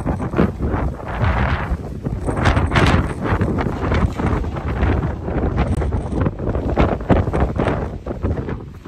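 Strong, gusty wind buffets the microphone on a farm in April, with loud surging roars and rustling throughout and no speech.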